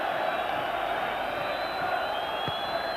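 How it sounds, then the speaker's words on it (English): Rangers football supporters in a stadium crowd during a match against Club Brugge, a dense continuous roar of cheering and chanting that stays steady and loud throughout. "the Rangers fans cheering their team on to the very last here"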